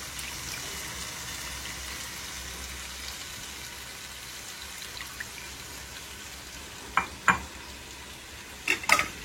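Mint and coriander leaves sauté in a pan for chicken seeraga samba biryani, a soft steady sizzle with a few sharp spoon clinks and scrapes near the end, no talking.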